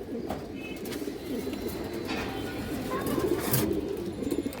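Pigeons of several Bangladeshi fancy breeds, green-necked among them, coo and call in a steady low murmur close by, with some faint background noise throughout.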